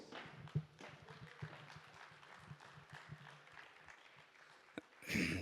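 Sparse, scattered clapping from a small crowd, quiet and uneven, fading out before a brief louder burst at the end.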